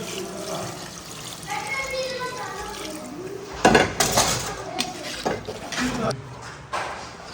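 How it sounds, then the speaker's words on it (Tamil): Water is poured into a pot of mutton curry with potatoes in a home kitchen, a soft trickle and splash mixed with clattering pots and utensils, while someone talks throughout. "குழம்புக்கு தேவையான அளவுக்கு நம்ம தண்ணி ஊற்றிக்கணும்"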